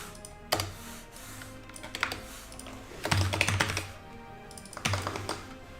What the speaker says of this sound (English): Let's just try typing.